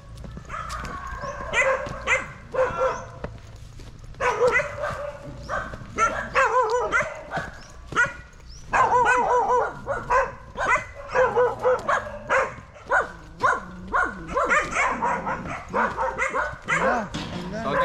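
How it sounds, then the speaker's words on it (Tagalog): A dog barks repeatedly in a busy outdoor scene, with yips and whimpers mixed in, while people talk over it. "Tapang ng aso."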